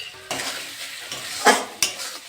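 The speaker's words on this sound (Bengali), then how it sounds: "মশলাটা ভালো করে কষে নেব।" Spice paste for a pointed gourd (potol) oil curry is stirred in hot oil with a little water and sugar added, giving a soft sizzle under sharp spoon scrapes and two clinks against the pan near the end.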